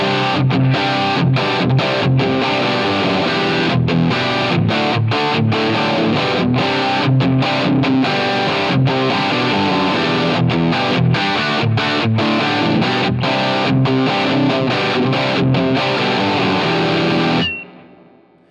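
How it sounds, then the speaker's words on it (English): An electric guitar played through a Gatekeeper GK-Drive pedal, with drive and tone turned well up, rings out loud, bright and heavily distorted in chords and riffs for about seventeen seconds, then cuts off abruptly. "What happens if you want to boost the drive a bunch and boost the tone a bunch for a really bright drive sound?"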